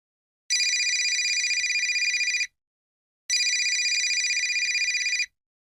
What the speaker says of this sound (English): My mobile phone rang,